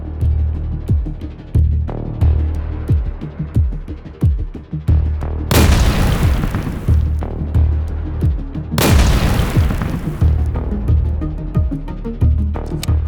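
A Russian tank hit from inside by an FPV drone strike: two heavy, roaring explosion blasts a few seconds apart, loud and sustained, over a continuous low throbbing rumble with scattered bangs.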